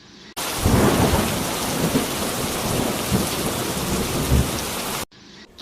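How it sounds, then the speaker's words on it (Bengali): Heavy rain pours in an animated cartoon scene, a dense roar with rolling thunder rumbles swelling underneath, starting abruptly and cutting off near the end, with no voices. "বাইরে অনেক বৃষ্টি হচ্ছে"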